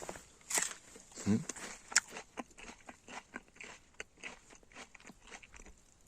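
Crisp crunching bites into a juicy apple and chewing, close to the ear, a few sharp snaps followed by softer, irregular munching.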